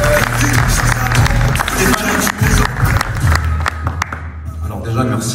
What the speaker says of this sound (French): Je vous demande d'applaudir bien fort Stéphane Hatch.